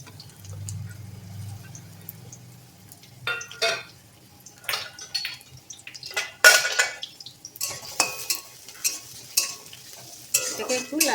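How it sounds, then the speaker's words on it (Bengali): Chopped onion sizzles in white oil in a wok as kakrol and potato fry is started, with a steady close frying hiss and repeated metal stirring scrapes and clinks of utensils against the pan, without speech. "কড়াইতে দিয়ে দিয়েছি সাদা তেল, আর দিচ্ছি পেঁয়াজ কুচি।"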